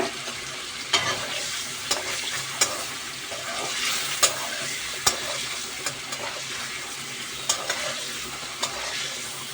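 Eggs with salt, chopped potato and onion frying in a pan, a steady close sizzle broken by sharp clicks and scrapes of stirring throughout, no voices.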